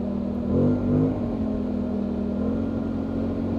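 A Polaris Sportsman 1000 XP ATV engine, prone to overheating, drones steadily under acceleration at speed, a close, continuous low hum that swells briefly early on and then holds.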